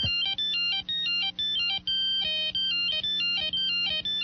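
A Nokia 8260 or 5165 mobile phone ringtone plays loud and close by itself, a bright electronic melody of quick beeping notes that repeats in short phrases with brief gaps between them.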